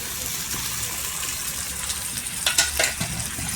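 A glass of water hits a hot sizzling pan of egg curry masala, a steady fry hiss with a brief louder splash and spatter near the end.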